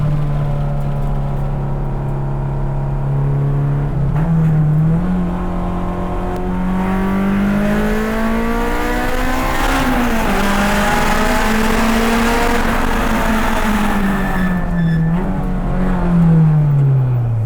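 A loud Honda S2000 time attack race car engine revs hard and continuously, its pitch climbing and falling as it accelerates, with a brief whine near the end; no talking.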